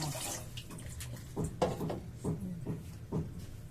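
Water trickles and splashes faintly in short bursts as a small amount is poured into a pot of sinigang with taro, with light clatter around it.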